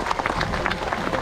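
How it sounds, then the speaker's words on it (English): Audience applause at a sea lion show at Pleasurewood Hills in Lowestoft, Suffolk, a brief, steady patter of many hands clapping from a crowd at moderate distance. "Give him another big round of applause"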